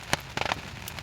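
Large hailstones strike hard surfaces in a few loud, sharp impacts over a steady background patter, close by in a Nepali village, with no talk.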